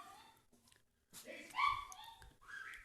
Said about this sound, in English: My dogs are being annoying.